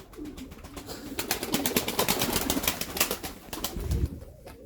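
Pigeons kept by a Turkish fancier flutter and shuffle close by, with soft wing flaps, scratching and faint cooing in a continuous rustling burst, no talk over it.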